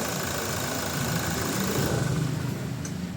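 A Toyota Innova engine idling at a steady, close rumble with a faint mechanical knock, running continuously before being switched off near the end.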